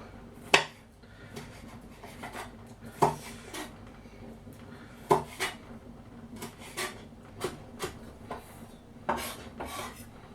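A knife chops food on a cutting board, giving a run of irregular, sharp, close knocks, some louder and some softer, over a quiet background.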